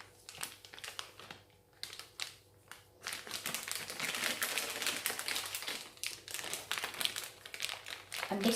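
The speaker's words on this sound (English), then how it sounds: "I'm going to take my buttercream and I'm going to put it in this bag." Buttercream is spooned into a plastic piping bag for decorating a chocolate drip cake, giving close, repeated crinkling and rustling of the plastic that grows busier and denser partway through, with a few soft taps.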